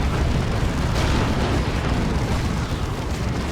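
Artillery fire-support explosions from the real-time strategy game Dawn of War 2 in an Imperial Guard versus Chaos Space Marines battle form a dense, loud, continuous rumbling barrage of blasts that fills the whole stretch.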